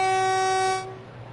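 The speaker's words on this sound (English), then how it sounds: "Give a honk as we leave." A train horn in Train Sim World 2 sounds as one loud, sustained honk that cuts off sharply partway through, leaving a quieter rumble.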